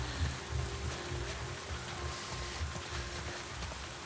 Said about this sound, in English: The Seattle rain.